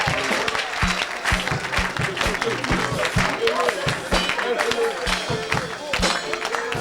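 Church congregation at a Sunday worship service cheering and applauding together, steady dense clapping with voices mixed in throughout, loud and close.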